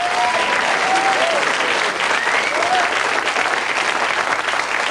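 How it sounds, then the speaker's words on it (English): Studio audience at the 1987 Blockbusters game show gives a contestant a big round of applause, steady dense clapping with a few faint whoops, loud and sustained throughout. "Give her a big round of applause."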